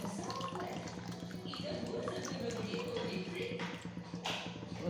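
Tamarind water pours into lentil kulambu with beans on a stove, a soft, continuous splashing and trickling with a voice over it.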